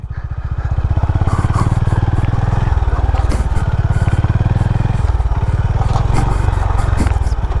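A Honda CB350 motorcycle rolls through gravel in first gear, its steady single-cylinder thump loud and close throughout, with loose stones clattering and scraping beneath the tyres.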